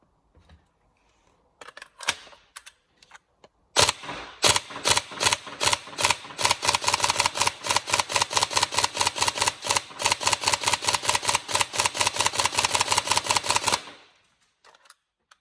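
Rapid run of sharp mechanical shots from a serviced and rebuilt Tokyo Marui M4 URGI 14.5 NGRS airsoft gun, a few single cracks first, then a steady fast burst of near-identical clacks lasting about ten seconds, close and loud, with no voices.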